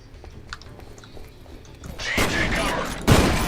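After a quiet stretch of small clicks and movement, loud rapid gunfire in the video game F.E.A.R. erupts and keeps going in dense, continuous bursts.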